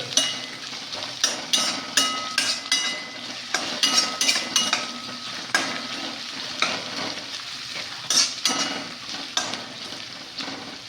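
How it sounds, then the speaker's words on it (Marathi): Chopped onions sizzle steadily in a pan for a vegetable biryani, with frequent scraping and clinking strokes of a spoon stirring them at close range throughout, no voices present. "हे कांदे चांगले परतून घ्यायचे आहेत, गोल्डन ब्राऊन होत तोपर्यंत."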